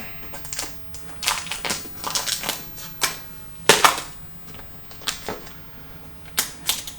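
Plastic protective film being peeled off Apple product packaging, a series of crisp crackling rips and sharp tearing snaps in irregular bursts, close and fairly quiet.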